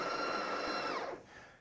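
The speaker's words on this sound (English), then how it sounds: "all we have to do is press that button to begin grinding" A Breville Barista Touch Impress espresso machine grinds coffee through European-made Baratza burrs, a steady high whirring that winds down and stops near the end, heard close and fairly quiet.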